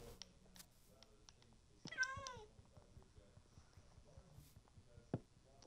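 A cat in a video game meows once clearly and loudly with a rising-falling cry, amid soft footsteps, clicks and quiet game sounds.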